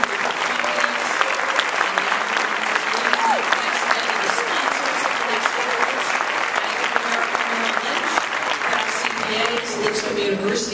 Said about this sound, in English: So let's have one more round of applause for this amazing performance.